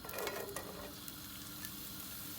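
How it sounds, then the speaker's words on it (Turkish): Onions drop into hot cooking oil for a vegetable güveç, with a soft sizzle that flares briefly at the start and then settles into a faint, even crackle. "sıvı yağımıza soğanlarımızı atıyoruz arkadaşlar."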